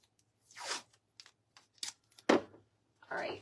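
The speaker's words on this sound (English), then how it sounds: "so I am just gonna tape my backing down on the back of my hoop" Tape being pulled and torn to fix embroidery backing onto the back of a hoop for an in-the-hoop slap bracelet; a few sharp ripping strips and crinkly taps, close and quiet, with short gaps between, no voices.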